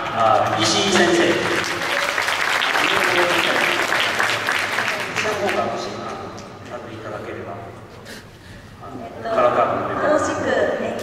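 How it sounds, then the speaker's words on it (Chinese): Audience applause in a sports gymnasium during a winter-training showcase of high school marching band and flag teams, a sustained dense clapping that swells, fades midway and rises again near the end, with a voice speaking over it. "让我们掌声欢迎一下"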